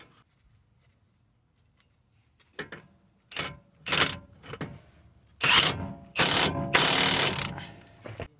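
A ratchet tightening a 17mm nut on the outer tie rod of a Toyota Sienna, heard as bursts of rapid clicking that start sparse and quiet, then grow louder and longer, close by, with no talking.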